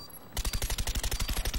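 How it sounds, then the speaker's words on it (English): Rapid automatic gunfire in the video game Black Ops, a burst of about a dozen evenly spaced loud shots after a short quiet lead-in. "That's ugly shooting."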